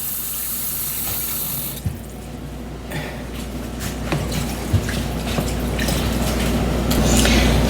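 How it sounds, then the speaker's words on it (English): Water running from a tap into a crock pot container, a steady splashing flow with light drips that grows fuller as it fills, with no talking. "I'm going to add some water to this container."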